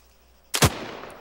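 A single sharp rifle gunshot cracks out in ARMA 3, a military battle royale video game, loud and sudden after near silence, followed by a short decaying echo.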